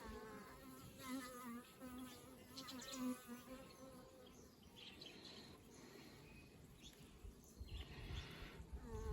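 Honey bees from a backyard mini mating nuc swarm around a frame of capped brood, a dense, steady buzzing close by with individual bees whining past, continuous and alone throughout.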